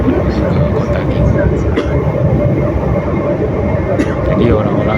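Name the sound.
Meitetsu train ride from Nagoya airport to Gifu, Japan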